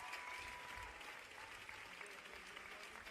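French crowd at an indoor athletics meet in Lyon, a steady wash of applause and cheering filling the arena, distant and fairly faint, with a commentator's voice faintly over it.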